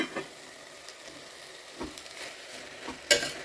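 Rice and mint leaves stirred and sautéed in a pan, giving a quiet, steady sizzle with a few soft scraping stir strokes and one brighter clatter near the end; no talking.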